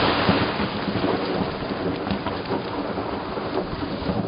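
Thunder rumbling during a heavy storm near a house where lightning struck a tree, a loud continuous roar mixed with steady pouring rain and no voices.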